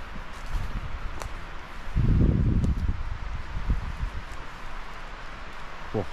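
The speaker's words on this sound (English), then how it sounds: "Whoa, wind's picking up." Wind gusts through deep woodland, a steady broadband rush that swells louder for a moment before settling back, with faint rustling and a few light knocks nearby.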